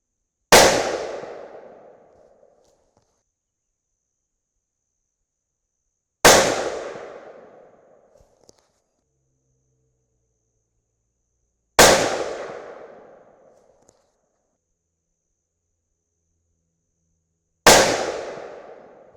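Four loud, sharp rifle shots fired through a Silencerco flash hider outdoors, each a single crack with a long decaying echo, spaced about five to six seconds apart, with no talking between them.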